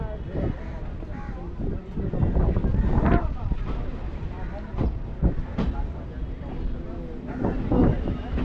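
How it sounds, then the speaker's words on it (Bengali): A train running alongside the Ganga river in Kolkata gives a steady rumbling rattle with bursts of wind buffeting the microphone, and faint voices sit under the noise. "গঙ্গার একদম পাশ থেকে ট্রেন জার্নির অভিজ্ঞতা।"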